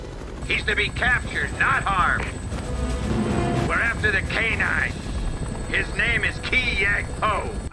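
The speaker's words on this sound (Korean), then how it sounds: "티베트 상공에 헬기가 한 대 떴습니다." Helicopter rotor thumps throb steadily overhead, mixed with a voice talking over the noise, chirpy warbling sounds recurring through the clip.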